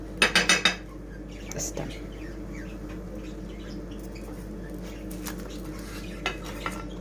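Utensils scraping and clinking against a pan and plate as a fried galash pastry is lifted onto a serving dish, with a quick cluster of sharp metallic clicks at the start and a few lighter taps near the end over low background hum.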